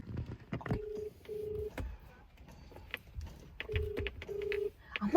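Phone dialing tones while calling mom, two short pairs of steady electronic beeps separated by a pause, faint and close, with soft handling noise and quiet voices in the background.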